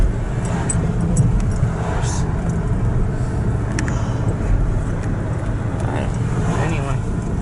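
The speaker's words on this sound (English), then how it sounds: "we just keep driving through here." A car driving along, heard from inside as a steady low road and engine rumble that stays constant throughout, with people talking over it.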